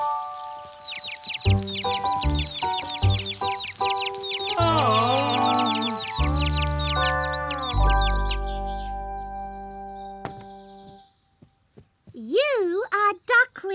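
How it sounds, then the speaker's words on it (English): Ducklings peep rapidly in high chirping bursts while an adult duck quacks and calls lower in a children's cartoon setting, close and lively with musical tones, ending in warbling squeaks. "Baby ducks. This is a duck."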